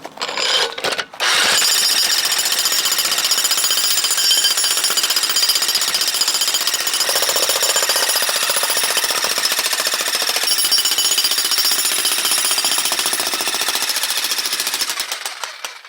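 A rented jackhammer breaks up concrete for a ground-level floating deck, hammering loud and close in one continuous rapid rattle after a brief start-and-stop, with no voices.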